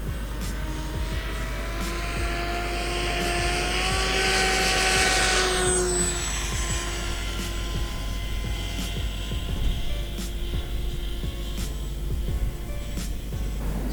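FPV flying wing model aircraft propeller in flight on a windy day, a steady buzzing whine that rises and sweeps in pitch around midway and then settles, heard at moderate distance amid wind.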